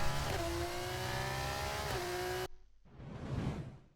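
In the F1 24 video game, a Formula 1 race car overtakes at about 300 km/h with a loud, sustained high-pitched engine whine. The sound cuts off abruptly, then a quieter whooshing pass swells and fades.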